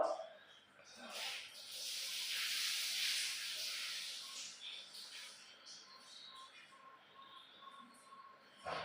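Steady hiss of steam rising and swelling from water boiling in a steamer, then settling into a softer continuous hiss, close by with no voices.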